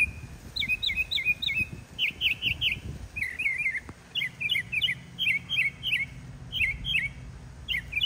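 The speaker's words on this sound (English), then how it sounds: "I finally got a perfect angle of the bird that makes every call under the sun" A songbird calls again and again in short chirping bursts that keep changing pattern, fairly close and clear over a low outdoor rumble, with no talking.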